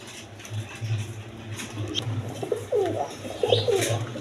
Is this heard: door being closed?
no